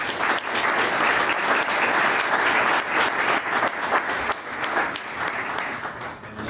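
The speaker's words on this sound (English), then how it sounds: "please join me in welcoming these candidates with a round of applause" An audience at a Hennepin County Attorney candidate forum hosted by the Downtown Council gives the candidates a round of applause: a full, even wash of clapping from a crowd that holds steady, then thins slightly toward the end.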